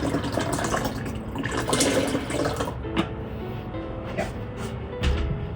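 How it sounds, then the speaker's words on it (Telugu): Water pours steadily from a tap into the reservoir of a coffee maker, a continuous, fairly close splashing rush with a few faint knocks, no talk. "నాకు కొంచెం వాటర్ పోసాను కాబట్టి మిగతా వాటర్ ఫిల్ చేసేసి"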